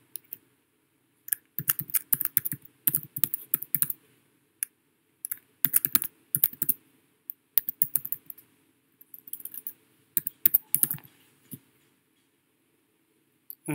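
Clicky computer keyboard keys tapped in quick bursts and short pauses while a project name is typed, close and clear with no voices.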